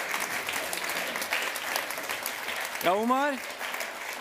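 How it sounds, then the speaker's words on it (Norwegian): An audience claps at a launch party for a book and film, a steady wash of applause under which someone speaks briefly. "Applaus for gutta."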